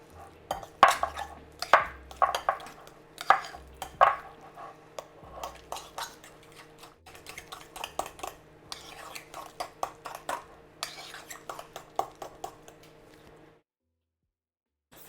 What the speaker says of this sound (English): And some black pepper. Now I'm just gonna mix it together.